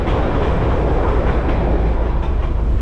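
The Darjeeling toy train rolls through a street lined with shops, a steady loud low rumble of wheels and carriages running close by without pause, with no talk.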